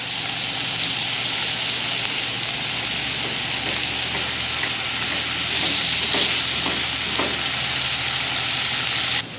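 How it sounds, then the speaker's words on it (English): A seasoned mahi-mahi fillet fries in a lightly oiled pan, giving a continuous moderate sizzle with a few brief crackles partway through, with no voices. "we're gonna take the fish and put it seasoned side down"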